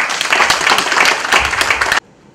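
A hall audience at a French literary prize event applauds a novelist with steady, full clapping that stops abruptly after two seconds.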